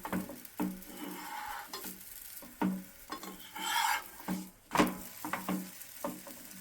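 An aloo paratha roasts on a hot pan, giving a soft, steady sizzle broken by repeated scraping and flipping knocks from a spatula, close and moderately loud with no voices.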